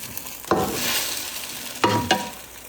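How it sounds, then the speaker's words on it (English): Tomato and egg stir-frying in a pan: a steady close sizzle broken by a few sharp scrapes and clatters of the spatula tossing the food, with no speech. "We stir fry tomato."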